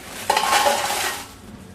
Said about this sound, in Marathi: पहिल्यांदा आपण काश्मीरी मिरच्या आणि बेडगी मिरच्या एकत्रच भाजूया.